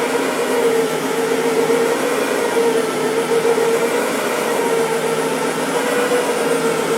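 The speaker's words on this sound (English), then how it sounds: "It's got two counter-rotating brushes, and it's again excellent at removing dry soil from carpets" A Brush Pro carpet machine with two counter-rotating brushes runs over carpet with a loud, steady droning whir, close and unbroken, with no talk.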